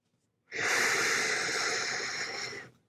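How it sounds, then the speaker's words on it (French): A slow, audible breath moves in and out through the nose during a guided meditation, one long airy stream rising from silence, holding steady, then fading out, close and clear with no talk. "L'air qui entre par les narines et l'air qui ressort."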